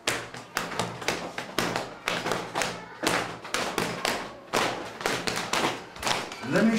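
An ashimba, a homemade percussion instrument, is struck in a steady run of close, resonant wooden thumps and taps, with some rhythmic variation across the phrase and no talking.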